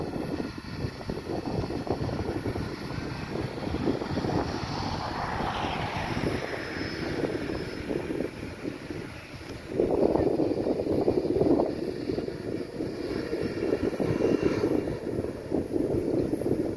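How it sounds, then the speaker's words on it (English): A Virgin Atlantic passenger plane takes off near Wilcox Hill in Christ Church, Barbados, its jet roar building to a sustained rumble that swells louder partway through and remains at a moderate distance, with no talking. "this is another plane here taking off."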